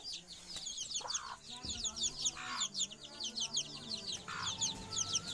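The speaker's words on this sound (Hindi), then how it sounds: "तो सिर्फ यहाँ मैं जो बच्चे हो जाते हैं मुर्गी के वो रखता हूँ" Chickens and their chicks in a backyard garden coop during the monsoon: rapid high peeping from the chicks runs throughout, with several lower clucks from a hen breaking in, close and moderately loud.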